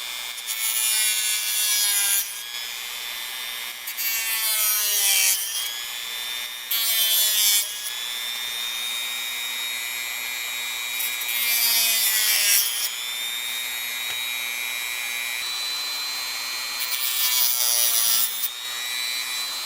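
A saw cuts a piece off during assembly of an Elekit TU-8888 tube monoblock amplifier kit, in repeated bursts of brisk back-and-forth strokes, close and loud, with short pauses between runs.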